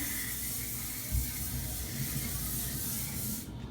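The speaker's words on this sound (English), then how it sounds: "the last thing that I'm going to do is spray some sheen on my hair." A steady, close hiss of an aerosol sheen spray on braided hair, held for several seconds, then cutting off abruptly.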